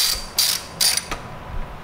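Hand ratchet tightening a 10 mm bolt on the airbox of a 2016 Mustang GT: a few quick, close, crisp clicking bursts with short pauses between them, heard alone.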